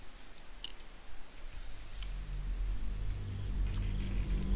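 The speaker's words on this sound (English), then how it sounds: "So have fun listening to me chew cereal." A person chewing a mouthful of cereal, close and fairly quiet, with soft crunching and squishy bites over a low rumbling background, no talking.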